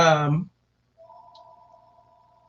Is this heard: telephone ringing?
yes